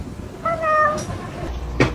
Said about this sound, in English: Look at this little kitten.